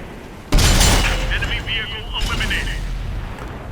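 A tank in World of Tanks firing a HESH shell, a single loud, close boom that erupts abruptly and trails into a long rumbling decay, with speech audible throughout.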